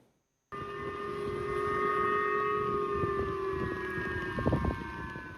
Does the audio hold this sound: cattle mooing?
no